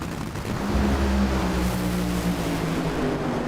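Austin Prock's NHRA funny car tears down the drag strip at over 300 mph, a loud, sustained engine roar filling the air with broadband rumble.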